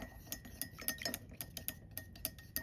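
Chopsticks stirring agave and lemon water in a cup, a quick run of light clinks and ticks against the cup walls, close and crisp, irregular taps, with no talking.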